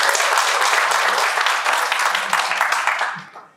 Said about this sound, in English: give them a round of applause as I mentioned them